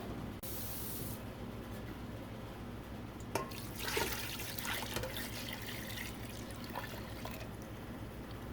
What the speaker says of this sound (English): I'm just going to put some more water in this pot and pour it over just to cover